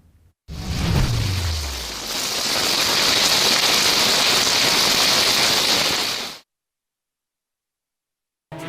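Heavy rain pours in Bhavnagar, a dense, loud hiss of falling water that swells after a brief low rumble and then cuts off abruptly into silence.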